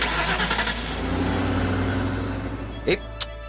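A car engine turns over and settles into a low, steady rumble, with people talking nearby and a couple of short knocks toward the end.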